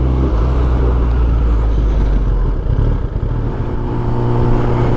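Kawasaki ZX10R motorcycle riding through a town on the way to Kolli Hills, a steady loud rumble of engine and wind with low drone throughout, no voices.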